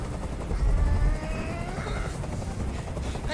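A helicopter hovers overhead during a hostage scene in Detroit Become Human, its steady rotor rumble loud and constant with a brief low swell near the start, and no voices.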